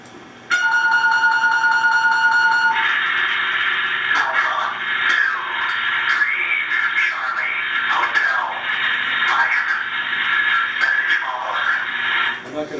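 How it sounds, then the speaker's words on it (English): Radio launch order message from a nuclear deterrence setting: a steady tone followed by a long run of rapid, chattering coded tones and bursts over static, loud and continuous with no voices. "But a launch order would sound like this."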